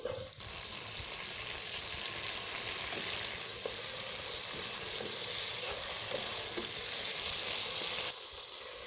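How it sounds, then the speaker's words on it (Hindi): Boiled vegetables sizzle and crackle steadily in a hot pan, with occasional stirring clicks, close up and continuous until it briefly drops at the end. "सब्जी बॉयल हुई हुई है, इसलिए इसे 2 से 3 मिनट के लिए भून लें बस।"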